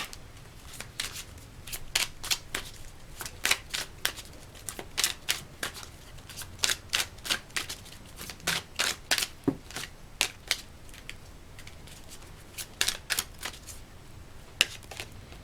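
Tarot cards being shuffled by hand, close and quiet, with rapid crisp riffling bursts repeating in an uneven rhythm throughout, with no talking.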